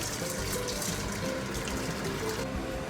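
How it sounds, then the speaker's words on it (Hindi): Water pours steadily into a cooking pot on a kitchen stove while mutton biryani is being prepared, a continuous close splashing and filling sound with no talking. "थोड़ा और पानी ऐड कर रही हूँ"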